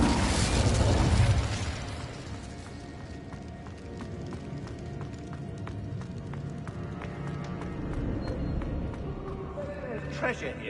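An Incendio fire spell goes off in the Hogwarts Legacy video game as a loud burst with a whooshing roar at the start, then fades into game effects, chimes and clatter as the fire dies down.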